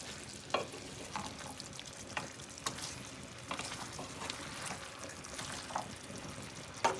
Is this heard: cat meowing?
no